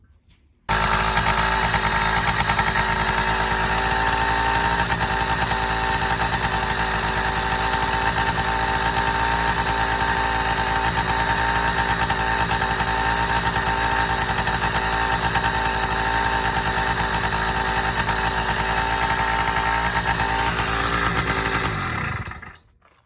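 A motorcycle engine with a new CNC high-compression head idles steadily and loudly at close range for about twenty seconds, a constant droning hum with a whining overtone, starting abruptly and cutting off near the end without any talking.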